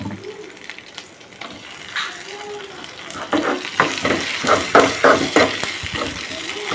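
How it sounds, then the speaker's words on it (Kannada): Tomatoes dropped into a hot frying pan, with sizzling and stirring scrapes building from quiet to a louder run of rhythmic bursts, close up. "ಇದಕ್ಕೆ ಟಮಾಟೆ ಹಾಕೋತೀನಿ ರೀ"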